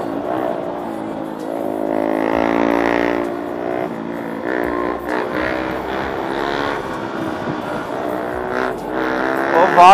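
A motorcycle engine during a ride, a steady harmonic drone that swells and falls with throttle changes and stays loud and close throughout, with a voice talking over part of it.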